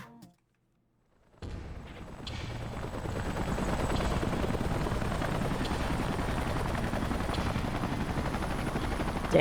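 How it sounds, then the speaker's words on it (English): Salvage helicopters arrive in the video game Xenoblade Chronicles X. A steady, loud rotor roar starts suddenly after a brief silence and continues without a break, with faint distant pops mixed into the drone and no speech. "Let's call in the salvage choppers and get it out of here."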